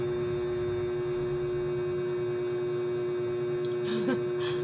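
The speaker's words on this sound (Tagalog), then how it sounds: "Walang patay yung exhaust fan. Ayan yung umaandar dito," Two exhaust fans run together with a refrigerator in a home, giving a steady low mains-like hum with a constant tone throughout, and a faint brief voice near the end.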